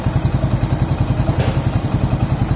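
Motorcycle engine running steadily, checked for vibration through a mechanical stethoscope, giving a close, rhythmic low thumping pulse with faint mechanical clatter, and no voices.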